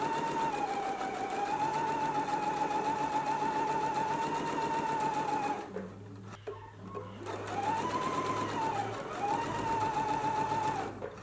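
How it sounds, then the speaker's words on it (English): Sewing machine stitching a 5/8 inch seam allowance while sewing a McCall's M8322 pattern, a steady loud motor whir that pauses briefly near the middle, then resumes at an even pace. "Again, we're stitching at a 5/8 of an inch seam allowance."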